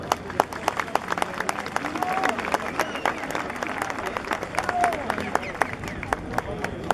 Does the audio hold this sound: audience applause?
yes